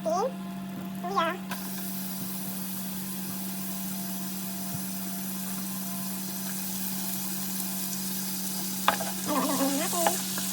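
Ginger goes into a hot pan and fries with a loud, continuous sizzle that swells early and holds steady while it is stirred, for a Filipino Ilonggo valenciana-style dish. A person speaks briefly at the start and again near the end.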